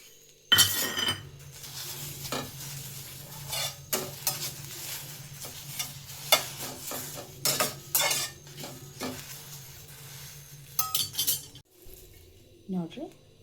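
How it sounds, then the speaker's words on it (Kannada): Cumin and ajwain seeds dry roasting in a pan, heard as a near, busy clatter of a utensil scraping and stirring against metal in irregular bursts, with a faint sizzle underneath and a brief voice near the end. "ಮತ್ತು ಜೀರಿಗೆ, ಓಂ ಕಾಳು ಎರಡು ಸೇರಿಸಿ ಹುರಿತೀನಿ."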